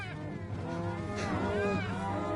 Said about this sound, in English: Which nobody wants to have to hear this many cows all being loud and obnoxious.